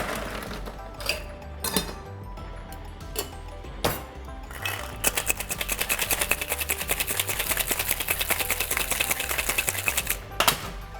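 A Negroni with gin, Campari and sweet vermouth is shaken hard with ice in a cocktail shaker, producing a fast, steady rattle of ice clinking for several seconds after a few scattered knocks and clinks.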